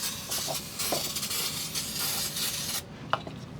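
A steady hissing spray of brake cleaner across the oil filter area during an oil change, lasting a few seconds before cutting off, followed by a faint click.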